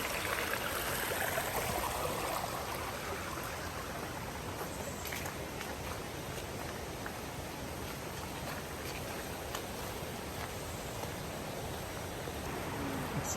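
A mountain stream flows steadily along a hiking trail to a series of waterfalls, a dense, continuous rush and gurgle of water that stays loud and even throughout, with no voices.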